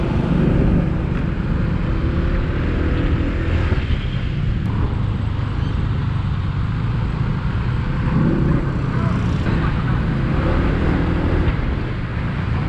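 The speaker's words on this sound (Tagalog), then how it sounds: "Oy, traffic." Steady road traffic rumble in the Philippines near Daraga, Albay, a dense low engine drone throughout with a brief louder pass midway, close and continuous.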